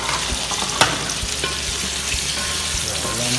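Shrimp hitting hot oil over sautéed onion and garlic, a loud continuous sizzle with stirring scrapes and one sharp utensil clack early on, no one talking.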